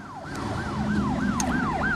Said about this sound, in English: On our way to confront Lamont, we saw an ambulance drive by, heading fast towards downtown